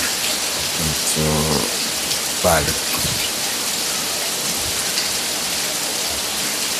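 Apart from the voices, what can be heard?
heavy rain falling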